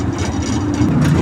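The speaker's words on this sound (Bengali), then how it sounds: "আমি এখন বুলেট ট্রেনে উঠেছি।" A small bullet-train ride at a holiday park, about to pass through a cave, gives off a brief steady low engine rumble with a mechanical drone, fairly loud and close, with no voices.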